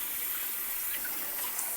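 Running water pours over a handheld shower head as it is rinsed, a steady, close splashing hiss with no speech.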